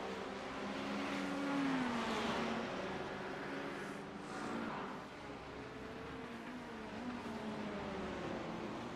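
Race cars, including a 1995 Porsche, running on a track in a close battle, steady engine drone with rising and falling pitch as they accelerate and pass, heard at moderate distance.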